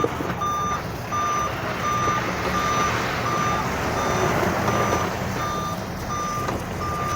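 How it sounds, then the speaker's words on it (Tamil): Heavy lorry carrying a big load moving slowly through traffic, engine rumbling under a steady series of regular high reversing-style beeps that repeat throughout. "ஒரு லாரியில் ஹெவி லோடு ஏற்றிட்டு போகிறாங்க"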